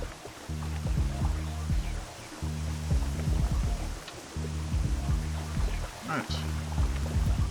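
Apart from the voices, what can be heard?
rain in Minecraft video game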